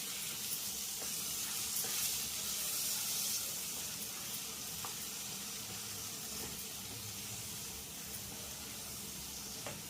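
Coriander and cumin powder sizzle in ghee while being mixed for an Andhra-style spicy prawn curry, making a soft, even hiss that stays constant throughout with faint stirring ticks.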